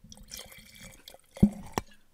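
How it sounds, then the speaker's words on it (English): Rum poured close up into a glass in a quiet room, with a soft trickle that ends in two sharp splashy bursts. "Hold on, I need to pour this one."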